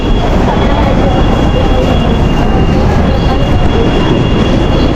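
An LRT train at a station roars loudly and continuously with rumbling wheels and a thin steady squeal, close by and filling the whole stretch without pause.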